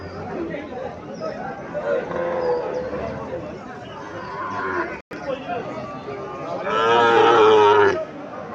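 A young Sahiwal heifer calf about seven months old mooing at a busy cattle market, a long loud low call near the end after earlier calls, with crowd chatter and voices around.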